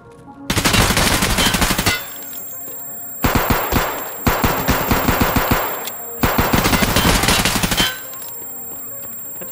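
Gunfire in the video game Escape from Tarkov: several loud, rapid automatic bursts of one to two seconds each, with brief gaps between them, heard alone and close.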